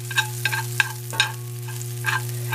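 Chorizo fries and sizzles quietly in a pan, with soft crackles and stirring scrapes popping up irregularly over a steady low electrical hum.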